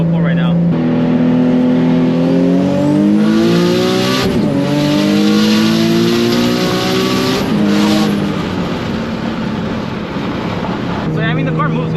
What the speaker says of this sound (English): I'm gonna go ahead and add a clip of me doing a pull right now